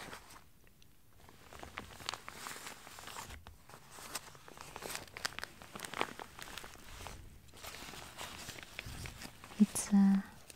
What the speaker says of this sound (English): The first jacket is a windbreaker by the North Face.